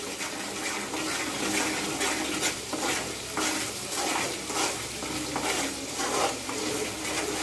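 Chicken pickle mixture being stirred with added salt in a pan, with continuous wet sizzling and rhythmic, repeated scraping stir strokes close up, no speech.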